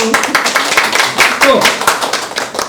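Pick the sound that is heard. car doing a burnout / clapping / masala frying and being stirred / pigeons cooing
clapping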